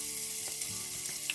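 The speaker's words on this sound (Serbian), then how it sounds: "tu ću ubaciti 3 čena belog luka sitno seckanog." Three cloves of finely chopped garlic sizzling in heating oil on a stovetop burner, a soft steady frying hiss with a few small pops and crackles, close and quiet, no talking.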